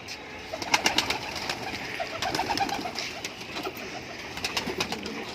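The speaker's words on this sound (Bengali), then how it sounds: "সব পায়রাগুলো ছাড়া হচ্ছে, আস্তে আস্তে এক একে বেরোচ্ছে, সব ফেন্সি" Fancy pigeons coo steadily as they are let out of their loft one by one, soft overlapping warbling calls with wing flutters and light scuffs close by.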